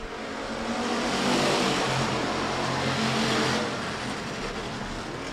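Sportsman class race cars roar around a dirt track in a heat race, a dense, loud wash of engine noise that swells and then eases slightly as the pack passes.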